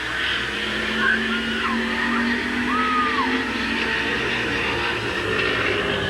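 Street stock race cars roar around Midvale Speedway in a steady, distant drone, with brief tire squeals rising over the continuous engine noise.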